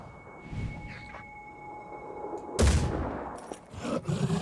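Gunfire in Phoenix Point aimed at an enemy's pincer arm: one sharp, loud burst of shots lands mid-clip with a rumbling tail, followed by scattered smaller impacts, over a quiet game backdrop.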